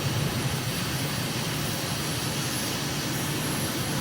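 Steady, loud aircraft engine drone in Microsoft Flight Simulator during a slow climb over a plateau near Praia, Cape Verde; a constant broadband roar holds evenly throughout with no talking.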